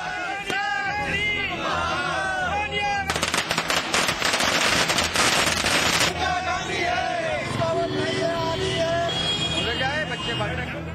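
Rapid crackling bursts of firecrackers explode in a dense volley for a few seconds, loud and close, amid a noisy outdoor crowd celebrating at a main town crossroads in India, voices talking throughout.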